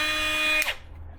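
A high-pitched whine from an angle grinder with a disc brake cuts off abruptly, the tone dropping away within a fraction of a second as the disc is stopped, leaving near silence.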